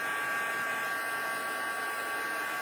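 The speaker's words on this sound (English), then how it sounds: "actually, I grabbed a heat tool that's not Stampin' Up." A heat tool blows hot air to melt embossing powder, a steady, loud, close whooshing hum like a hair dryer that runs unbroken from start to finish.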